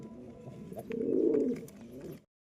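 A female pigeon gives a single soft, throaty coo that swells in the middle and fades out, close and alone.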